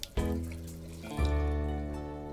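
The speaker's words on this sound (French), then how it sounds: "J'ouvre le robinet." A bathroom tap is turned on and water runs steadily into a sink, starting with a sudden splash and continuing as a soft, close stream with a resonant tone.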